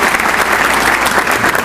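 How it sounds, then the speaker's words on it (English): An audience at a city event applauds its city councilmen with loud, continuous clapping filling the whole moment without pause. "Let's give our city councilman a round of applause."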